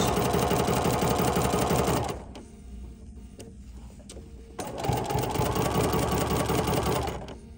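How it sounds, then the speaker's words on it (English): Sewing machine stitching a fabric tray: two loud bursts of rapid mechanical needle chatter with a quieter pause between them, close and clear. "you can see it taking every other stitch"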